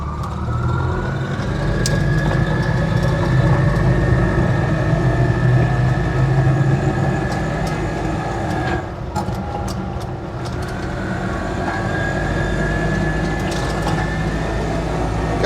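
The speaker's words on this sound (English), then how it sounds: "She's actually running better than I remember, although her diff still sounds absolutely horrific." An Invacar invalid carriage with a centrifugal clutch and CVT runs steadily, its engine droning loud and close with a harsh, grinding whine from a worn differential throughout.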